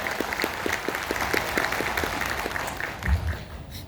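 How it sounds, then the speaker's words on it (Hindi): Steady applause from an audience in an auditorium, many hands clapping continuously at a moderate level with no voices over it. "तो फिर से एक बार जबरदस्त आपके लिए ताली हो जाए, वेस्टिज के लिए ताली हो जाए।"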